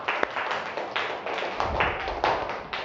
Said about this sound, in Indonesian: Tepuk tangan untuk Lia